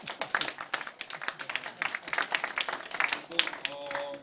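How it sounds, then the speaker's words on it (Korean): Scattered applause from a gathered group at a Korean community meeting, uneven claps with rising and falling bursts, moderately close with some voices mixed in. "박수 부탁드립니다"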